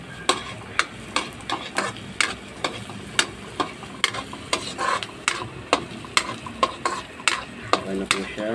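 Chopped onions sauté in a pan for bopis: a quiet sizzle runs beneath a steady rhythm of spatula scrapes, roughly two strokes per second, close and clear, with no talking.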